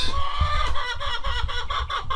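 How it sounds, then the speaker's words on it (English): Several chickens cluck and chatter close by in a small livestock barn, a steady, busy stream of overlapping calls, with no one talking. "our chickens haven't been fed this morning"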